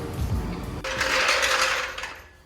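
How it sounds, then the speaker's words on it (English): Wheel bolts on an Alfa Romeo Giulia Quadrifoglio being undone with a power tool: low mechanical clunks, then a sharp onset of loud, buzzing, whirring rattle that holds for over a second before tapering off, close and alone. "we are just going to unbolt all of them"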